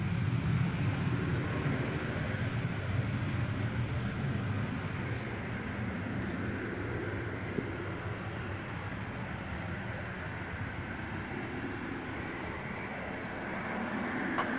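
A fixed-wing airplane takes off and climbs out at Gold Coast Airport. A broad, steady engine roar holds for the whole stretch, easing slightly after the first few seconds, heard from a distance with no talk.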